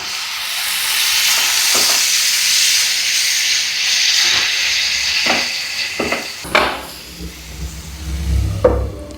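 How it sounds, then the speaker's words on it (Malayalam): Hot water poured into a sizzling pan of Kerala-style masala with turmeric and coriander powder, a steady loud hiss running throughout with a few stirring knocks and clatters near the end. "അര ടീസ്പൂൺ മല്ലിപ്പൊടി അല്പം ഒന്ന് ചൂടുവെള്ളം ഒഴിച്ചു കൊടുക്കുക"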